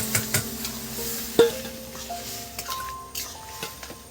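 Boiled eggs for a dhaba-style egg tadka go into a hot kadai, bringing a soft sizzle with stirring scrapes and light metallic clinks, close and without talk.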